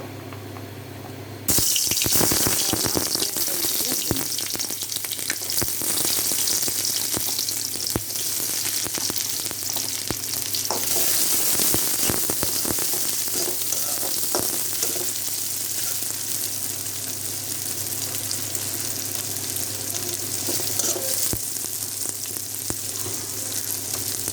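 Boal fish bhuna frying in a pan, a steady loud sizzle that starts abruptly after a second of quieter ambience and holds throughout, with occasional clinks and stirring and no talk.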